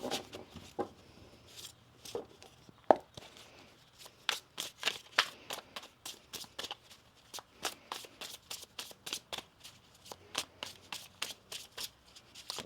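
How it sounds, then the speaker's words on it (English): Tarot cards being shuffled by hand, a run of crisp riffling bursts in quick irregular rhythm, close and fairly quiet, with no talking. "One more shuffle here."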